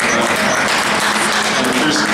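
A room full of New York Mets fans breaks into applause, a loud continuous patter of clapping with some murmur underneath.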